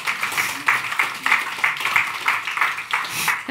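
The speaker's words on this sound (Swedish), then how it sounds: "Ni kan få en applåd så länge." Seminar audience applauding at a folk high school panel event in Almedalen, a steady wash of many hands clapping for a few seconds, moderately loud and fairly close, with no one speaking over it.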